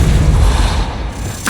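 Depulso force spell cast in the Hogwarts Legacy video game, a loud, dense low rumbling blast that fills the clip and ends with a short swelling whoosh.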